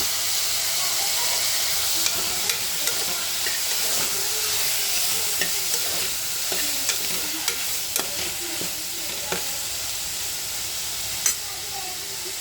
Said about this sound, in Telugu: ఇందులోని ఈ బఠానీ కూడా వేసుకొని ఫ్రై చేసుకుంటే చక్కగా మంచిగా ఉడికిపోతాయి.